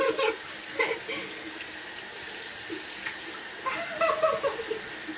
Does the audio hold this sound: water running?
yes